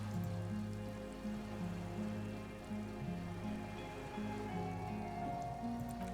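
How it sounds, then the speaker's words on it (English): Raindrops falling on water in the game Disco Elysium, a steady soft patter over a low sustained hum and tonal background drones. "Raindrops fall on water"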